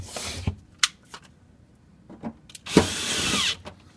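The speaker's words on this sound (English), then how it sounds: "Now we're going to put in those 2 screws to hold it back into position." A 1/4-inch drive runs small silver screws into a fridge during a leak repair, with short whirring bursts of the tool, a longer final run near the end, and quiet handling clicks between them.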